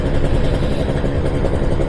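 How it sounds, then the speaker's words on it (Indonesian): Kawasaki Ninja RR two-stroke motorcycle engine running close up, a loud, dense, rattly buzz with a jingling metallic clatter, steady throughout the short stretch with no voices. "suara Ninja RR-nya gemerincing"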